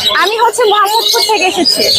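Many birds chirp and squawk together in a dense, busy chorus, close and loud, at the Mirpur 1 bird market in Dhaka.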